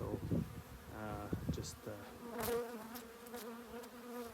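Honey bees buzz around a beehive in a soft, wavering drone, while a person speaks briefly close by.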